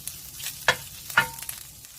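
Shiitake mushrooms being stir-fried for japchae with beef, two sharp scraping stirs of a utensil in the pan standing out over a faint, low sizzle across a short stretch.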